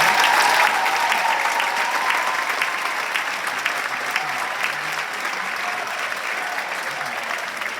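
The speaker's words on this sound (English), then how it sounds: "One more round of applause for these fine young men." A concert crowd at a 2023 school jazz band spring concert gives sustained applause that starts strong and eases slightly, with a few faint voices mixed into the clapping.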